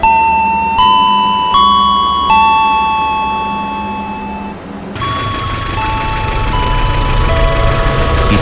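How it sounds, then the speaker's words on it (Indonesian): Railway station bell heard from a passing train, a loud, close series of sustained electric bell tones that step through several pitches, then a harsher ringing continues under rumbling train noise. "Itu suara bel stasiun."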